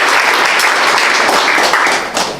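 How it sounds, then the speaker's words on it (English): Applause from an audience welcoming a speaker at an environmental art show, a steady wash of many hands clapping that holds throughout and thins slightly near the end. "'re going to hear from Georgie Ann Stinnett, so let's please give her a warm welcome"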